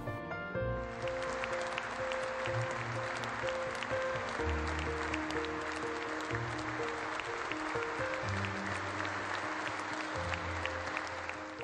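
A concert audience at a music festival in Casal Velino applauds with a dense, sustained wash of clapping that stays even throughout, with sustained musical tones audible underneath.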